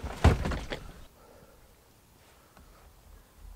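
Door of a BMW E30 swung shut with a single solid thunk near the start, followed by a few seconds of quiet background.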